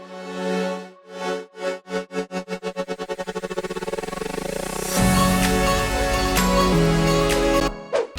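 Future house transition in which a synth chord's volume is chopped by an LFO whose rate speeds up, with automated mix level and added ambience, then opening into a full, loud chord and bass section before a brief cutoff.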